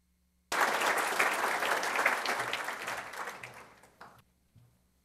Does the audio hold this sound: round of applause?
yes